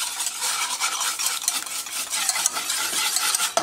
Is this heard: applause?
no